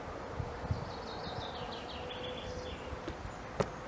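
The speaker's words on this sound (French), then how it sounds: "Ça fait du bien d'entendre des petits oiseaux" Small birds sing faintly outdoors, with light chirps and twittering notes drifting over a quiet, hissy background and a few soft knocks.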